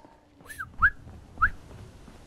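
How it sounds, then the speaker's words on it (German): Two short, rising whistles ring out in Fallout 4, each a quick bright chirp about half a second apart, moderately loud against quiet game ambience. "das war ein cooler Pfiff"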